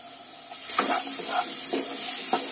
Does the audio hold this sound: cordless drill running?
no